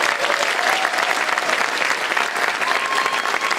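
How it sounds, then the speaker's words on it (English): A school concert audience applauds steadily in a large hall, a dense, even wash of clapping that stays loud throughout with no pauses. "A round of applause for all of them."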